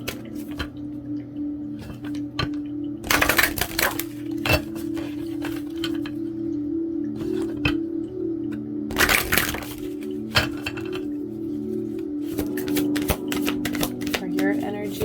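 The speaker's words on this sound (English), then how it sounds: "So I'm going to pull 2 of these cards." Zodiac and planet tarot-style cards are shuffled and pulled close up, giving scattered dry crackling snaps and flicks with short bursts of riffling, all quiet against a steady low hum.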